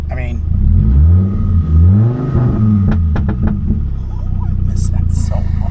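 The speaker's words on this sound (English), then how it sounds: "It's throwing a fuel pump control module code, but it runs." A Chevrolet Colorado pickup engine that throws a fuel pump control module code runs close by and revs up and down a few times, then settles into a steady idle, with someone talking over it.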